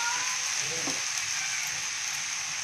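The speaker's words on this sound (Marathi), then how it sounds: "आता थोडंसं मी तेल सोडून घेते भाजीवरती." Oil is poured over cooked moong dal and dill vegetables in a pan with the heat off, and the pan gives a steady, close, even sizzle throughout.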